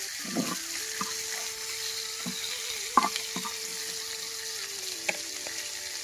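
Steady, quiet sizzling of Malabar spinach frying in oil, for cooking with stinging catfish, with a few soft clinks and scrapes of utensils scattered throughout; no talking.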